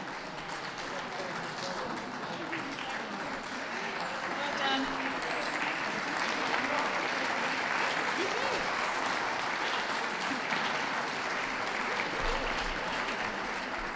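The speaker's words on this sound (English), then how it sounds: "A round of applause for those leaving the ring" A crowd applauds at the WELKS 2016 dog show as terriers leave the ring, sustained clapping that swells and holds steady for over ten seconds, with a voice speaking over it.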